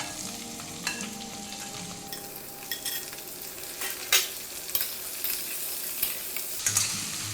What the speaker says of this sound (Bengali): পটলটা দিয়ে দেবো এবার আমি বেগুন কুমড়ো আর লঙ্কাটা একসাথে দিয়ে একটু ভেজে নেব